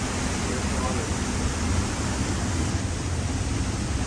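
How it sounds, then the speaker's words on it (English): Steady, loud rushing roar of a waterfall pouring over a wet tunnel beneath it on a Pacific Crest Trail hike, a constant broadband wash of water without pause. "Going underneath a waterfall in this tunnel."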